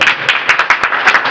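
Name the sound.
audience clapping at political rally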